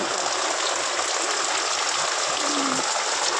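Heavy rainwater rushes along a road after a downpour, a steady broadband wash of flowing water that holds at one constant level throughout, close and continuous with no pauses.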